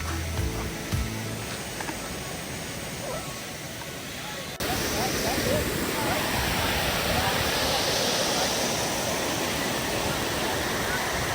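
RajaRani waterfall (Pandar Dhodh) pours as a steady, full roar of falling water that grows louder and broader partway through, with faint voices mixed into the rush.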